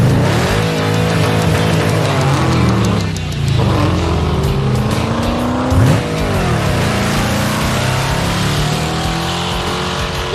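A blue Magnum and a rose gold Challenger at Roadkill Nights, loud close engines roaring and shifting pitch continuously, with rising and falling revs throughout.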